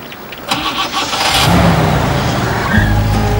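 A truck engine cranks over briefly, then catches and settles into a loud, rumbling idle with a slight rise in revs, close by and alone.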